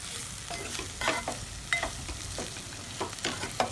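Boiled chammakaya (cluster bean) pieces frying with masala in a pan, a soft continuous sizzle broken by regular scraping stirs of a spatula.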